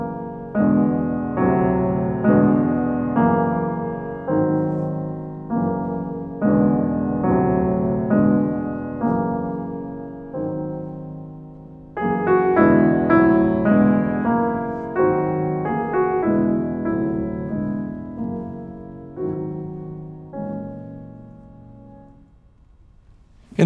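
Solo piano moves blocks of parallel chords up and down in Debussy-style planing, each chord struck and left to ring and fade, in a slow, even succession of rich, sustained sonorities.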